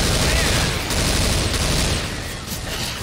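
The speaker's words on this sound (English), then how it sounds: "Watch your fire. I'm steadily getting assaulted by bullets." Dense, continuous gunfire from Left 4 Dead 2 roars loud and close, a rapid unbroken fusillade of shots filling every moment with no gaps.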